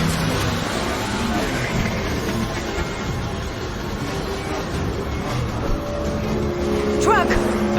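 A taxi car in the video game Mass Effect 2 drives with a steady engine and rushing road noise at constant loudness, with faint voices mixed in and a brief electronic chirp near the end.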